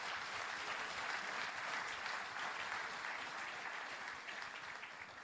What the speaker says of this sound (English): Can I ask you once again to give all the fathers a round of applause?